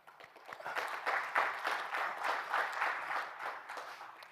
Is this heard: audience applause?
yes